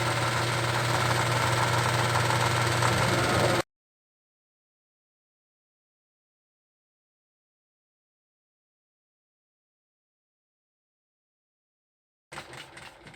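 A drill driving a 1-inch bit through a hole roars loudly and steadily for a few seconds, then cuts out into silence before a shorter burst of motor noise returns at the end.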